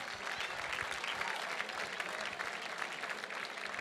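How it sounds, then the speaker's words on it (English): Guests at a Mountaineers fundraising gala applaud donors in a sustained, even round of clapping from a large room, fairly soft and distant, with no talk over it. "Let's give them all a round of applause for this piece of history right here."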